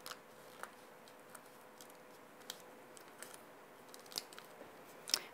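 Scissors snip paper craft pieces cut from dies, a series of sharp, faint clicks spaced irregularly over a quiet background, with a louder final snip near the end.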